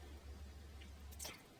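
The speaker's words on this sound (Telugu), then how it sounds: "బాగా కలపండి దీన్ని" Wet squishing and stirring of an egg and sweet potato curry as water is mixed in, one brief soft squelch near the end over faint low hum.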